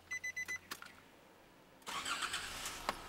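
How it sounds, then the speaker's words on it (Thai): A Nissan Navara pickup is started with the key: a few short chimes first, a quiet pause, then the engine cranks and catches into a running idle, close and moderately loud. "คุณหยิบกุญแจมาเสียบในช่องเหมือนอย่างที่คุณสตาร์ทตามปกติ"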